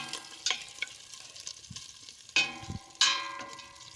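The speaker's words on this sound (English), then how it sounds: "I'm gonna get the onions and peppers in." Onions and peppers hit a pan with crispy bacon, bringing bursts of sizzling and a few sharp metallic clinks and scrapes of stirring among quieter frying in between.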